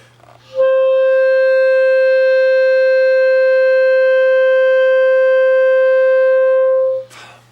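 A clarinet sustains a single steady upper-register D for about six seconds, loud, clear and alone, with a faint hum before and after.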